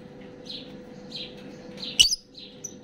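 Pet Fischer's lovebirds chirp in a repeating series of short tweets nearby, with one sharper squawk standing out midway over a low background hum.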